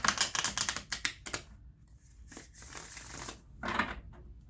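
Crisp rapid riffling of tarot cards, a few quick shuffles with short pauses between, close and fairly quiet.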